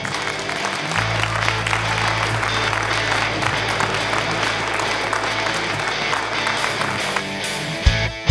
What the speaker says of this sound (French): on vous applaudisse, voilà, à notre tour